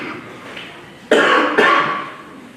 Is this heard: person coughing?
yes